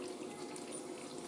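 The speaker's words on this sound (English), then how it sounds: "Taking in hot water." A Hoover A3060 Electronic 1100 washing machine takes in hot water, fed through a valve under the sink because of a failed solenoid, giving a steady rushing hiss of flowing water, faint and continuous with no voices.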